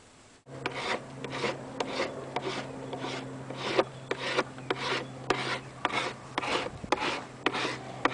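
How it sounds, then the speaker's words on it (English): Bondo body filler on a helmet being sanded up close: steady, rhythmic rasping strokes repeat back and forth with a faint background hum. "now I will continue to sand and refine the shape"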